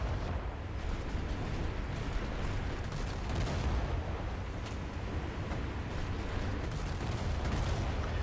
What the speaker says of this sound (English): I decide I'm going to shoot at some cargo ships